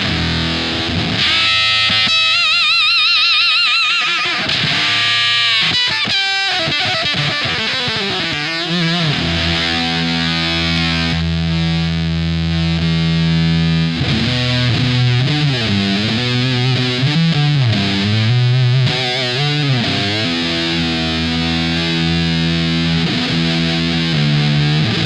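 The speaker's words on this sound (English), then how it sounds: "The distortion's only on like 3? What happens if you turn it all the way up?" A heavily distorted electric guitar through a distortion pedal turned to full gain plays saturated chords and bending notes, thick and buzzing, sustained and loud throughout with no talk.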